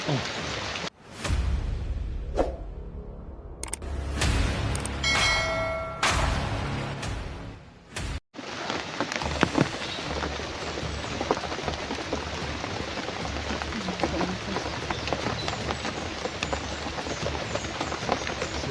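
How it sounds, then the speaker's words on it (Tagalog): Steady rain falls outdoors, a dense continuous hiss of drops on surfaces, preceded by a few seconds of intermittent clattering and knocking noises. "Ayan po mga tol is ulan. Ulan dito sa amin."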